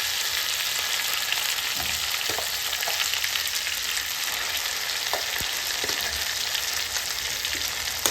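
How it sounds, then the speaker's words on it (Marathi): Ground sweet corn paste frying in hot oil, a dense, even hiss of sizzling that carries on throughout, close up with faint stirring taps and no talk. "आता आपण ह्यामध्ये जे ग्राइंड केलेलं आहे वाटण ते सगळं ह्यामध्ये टाकणार आहे."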